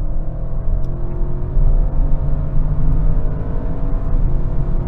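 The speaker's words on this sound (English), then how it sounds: "final rolling race, this time from 70 miles an hour, and I'll be in fourth gear" An Audi RS6 and a Tesla Model X accelerate hard in a rolling race from 70 mph in fourth gear, giving a loud, steady, continuous engine and road rumble with no pauses.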